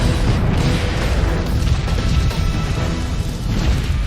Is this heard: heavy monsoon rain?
no